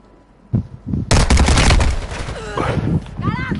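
Gunfire in a Call of Duty battle royale, a rapid automatic burst loud and close after a couple of softer shots, with shouted voices over the shooting.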